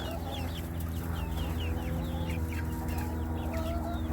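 Homestead hens clucking in a flock, with a steady run of overlapping clucks and chirps over a constant low hum, fairly close and without talk.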